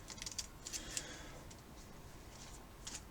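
Scissors snip Scotch tape during model rocket nose cone prep, giving several faint, crisp clicks in quick succession early on and one more near the end, close and quiet in a hushed room.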